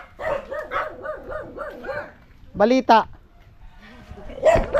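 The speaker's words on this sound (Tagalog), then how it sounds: "Oh, dami na aso" Several dogs barking outdoors in a rural Philippine setting on a late afternoon after rain, a quick run of rhythmic barks followed by a louder double bark and another near the end, with people talking over them.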